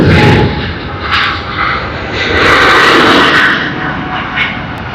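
An Emirates Airbus A380 arriving at Sydney Airport produces a loud, broad jet roar that swells and eases in waves, heard close and alone without talk.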